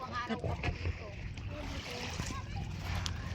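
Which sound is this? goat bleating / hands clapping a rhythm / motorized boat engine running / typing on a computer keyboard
motorized boat engine running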